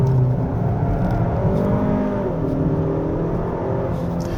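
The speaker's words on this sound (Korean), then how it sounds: "기본 엔진 소리 자체도 그 고회전에서는 스포티하네요" High-revving 2.5-litre turbo engine of a 2024 Hyundai Sonata N Line in Sport Plus mode with active sound design switched off, on a winding mountain road; a steady, loud, sustained engine drone with shifting tones, no talking.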